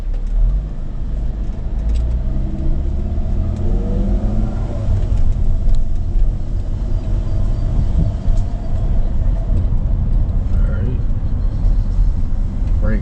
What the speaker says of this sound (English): Brakes sound horrendous